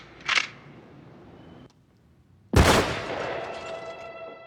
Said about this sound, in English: Every gunshot was a gigantic, huge, loud thing followed by a gigantic canyon echo